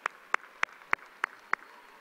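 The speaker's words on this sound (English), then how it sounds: "We can clap on that." At a high school graduation ceremony, a single pair of hands claps six times in an even, steady rhythm, sharp and close, with quiet in between.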